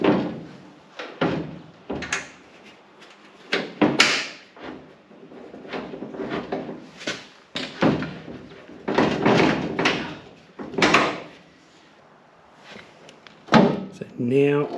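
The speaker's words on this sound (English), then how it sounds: "we'll bolt the door back on, put the pins back in, and see where I'm at now." A Holden LC Torana car door being refitted and bolted back on in a workshop gives a close, irregular series of loud metallic clunks, thumps and scraping handling noises, with brief quieter gaps between the knocks.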